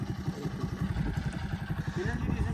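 Motorcycle engines idle and rev at a desert bike race, a close, throbbing low-pitched pulse with rattling clatter that runs continuously and fairly loudly.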